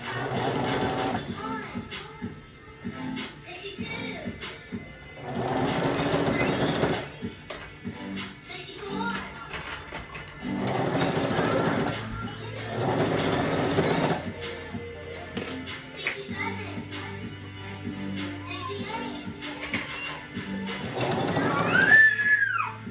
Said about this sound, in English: Take it to the sewing machine and serge it on.